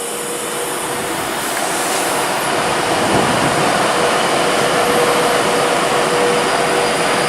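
A Class 390 electric train departs Warrington Bank Quay station, a loud, steady broadband roar and whine building slightly as it pulls away, close by and continuous with no talk.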